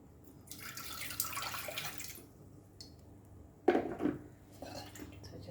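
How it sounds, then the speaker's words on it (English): Water poured into a pressure cooker of Goan pork bafat, with splashing and dripping bursts, some clatter of the pot, fairly close and fairly quiet. "Add 1 cup of water in this."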